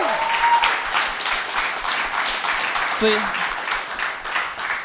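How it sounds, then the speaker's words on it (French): A live audience at a Trois-Rivières podcast taping breaks into steady, dense applause that fills the room for the whole stretch, with a voice talking over the clapping. "Alors, applaudissez-les."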